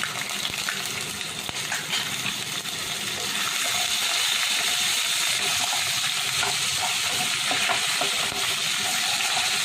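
Chopped green chili is stirred in a pan while roasting spices fry for achari aloo, giving a loud, steady sizzle with faint scraping of the stirring, and no talk.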